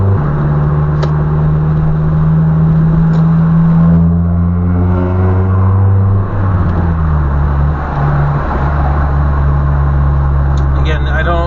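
A manual car driven through town with gear changes made without the clutch, engine humming loud and close, its pitch rising then dropping sharply at a shift, with a voice talking over it.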